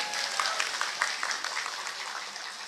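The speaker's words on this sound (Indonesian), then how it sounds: "Tepuk tangan untuk muslimat." An audience at an evening Muslimat anniversary gathering claps for the Muslimat, a few seconds of steady crowd applause with scattered sharper claps.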